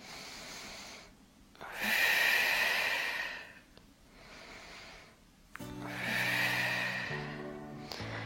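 Deep, audible breaths in and out during a bodyweight upper-body strengthening exercise, close and steady, with two long airy inhales and softer exhales between them, and no talking.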